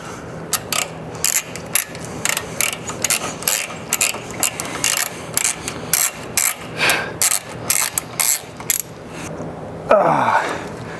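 A wrench ratchets in repeated short bursts on a rusty, stuck bolt of a 1969 Ford LTD that sat for years, with close, loud clicking strokes and a scraping rattle at the end.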